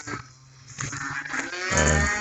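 Cattle moo loudly nearby, a drawn-out low call building toward the end with no talking.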